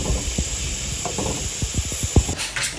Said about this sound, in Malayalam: റൈസിലേക്കും മസാലയിലേക്കും കൂടെയുള്ള ഉള്ളി ഞാനിവിടെ ഫ്രൈ ചെയ്തെടുക്കുകയാണ് കേട്ടോ